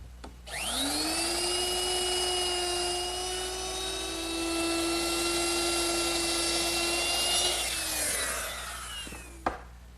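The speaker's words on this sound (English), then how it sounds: "I'm going to use my router, which is equipped with a 3/8 inch beading bit" A router fitted with a 3/8 inch beading bit spins up with a rising whine, holds a loud steady high-pitched scream while rounding over wooden table leg corners, then winds down and ends with a sharp click.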